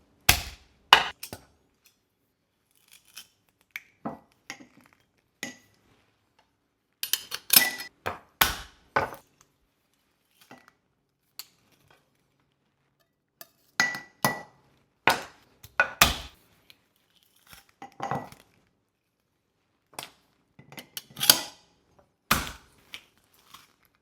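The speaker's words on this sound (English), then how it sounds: "next we're gonna mince 4 cloves of garlic" Four cloves of garlic minced with a knife on a cutting board for chimichurri, heard as irregular bursts of sharp close chops with short pauses between flurries, with no talking.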